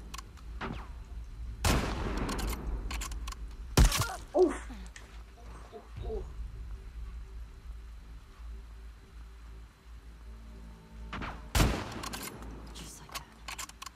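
Gunfire in The Last of Us Part II, heard as a few sharp, loud shots in separate bursts around the middle and near the end, with quieter rustling and ambient game sound in between.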